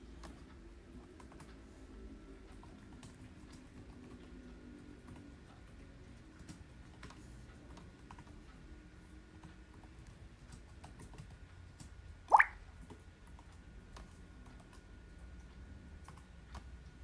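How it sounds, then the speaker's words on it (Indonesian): C++ code is typed on a computer keyboard in a steady stream of soft, close key clicks over a faint hum, with one sharper louder tap partway through and no voices. "Pertama, kita ketik dulu."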